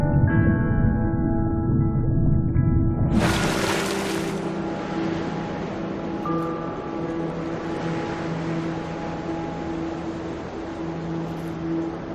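Steady wash of water and surf beside a lighthouse in the game That Dragon, Cancer, a dense broadband hiss that swells near the start and then runs on evenly under a soft musical drone, with no talk.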